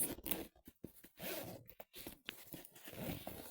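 A school bag's zipper is pulled open in a series of quick, close rasping strokes, uneven in rhythm and fairly quiet, with no talking.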